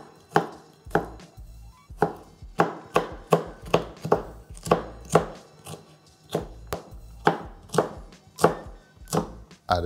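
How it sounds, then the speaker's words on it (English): A knife gives a Scotch bonnet pepper a rough chop on a board, with about eighteen crisp, close thuds in a steady, slightly uneven rhythm. No one speaks over the chopping. "So cutting a little piece of the Scotch bonnet. Just gonna give these a rough chop."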